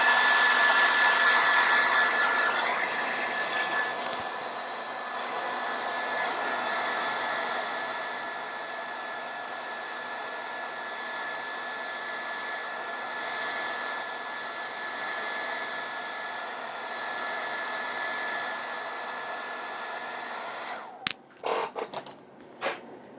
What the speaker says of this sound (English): So I'm just going to hit this with a hairdryer.